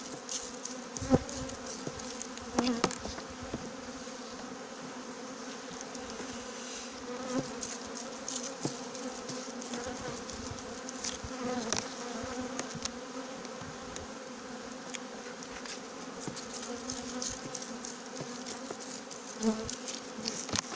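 Honeybees at a spring hive, a dense, continuous buzzing swarm that holds steady for about twenty seconds, close by with occasional louder passes of individual bees, no voices.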